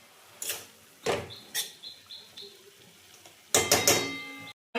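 Stalk greens frying in a pan with dried red chillies are stirred with a utensil, giving a series of sharp scraping clinks against the pan, spaced out and then bunched near the end, close and fairly loud.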